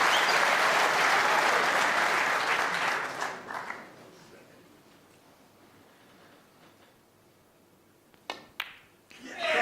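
At the Crucible snooker World Championship final, a loud burst of applause greets a century break, then fades to near quiet after about four seconds before a few scattered claps return near the end.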